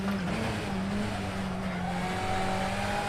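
A 1998 BTCC front-wheel-drive touring car laps Croft at racing speed in the Assetto Corsa sim, its engine droning at steady high revs with shifting tones and faint tire scrub, loud and continuous with no voices.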